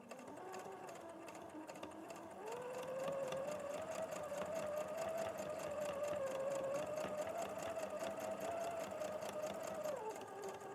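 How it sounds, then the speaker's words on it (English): Sewing machine running steadily while edge stitching fabric, a fast even whirring hum that quickens and holds for several seconds before slowing to a stop, close and alone. "I'm going to edge stitch it nice and neatly."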